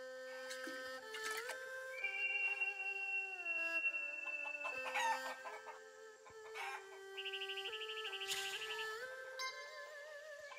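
Chickens in the Shenmue III video game cluck and crow in a busy, layered game soundtrack of bright tonal calls and effects, steady and fairly loud without speech.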